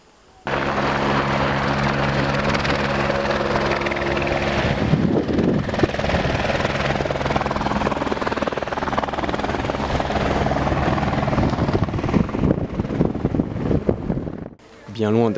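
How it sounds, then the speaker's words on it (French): A helicopter follows runners over the mountains during the UTMB 2015 ultra-trail race near Chamonix, its rotor thudding loud and steady for around fourteen seconds before it briefly cuts off. "là où seul l'hélicoptère peut encore suivre"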